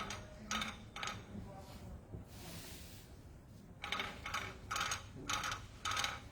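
A quilt frame's rolling mechanism clicks and ratchets in short bursts, fairly faint, with a rhythmic series of clicks toward the end.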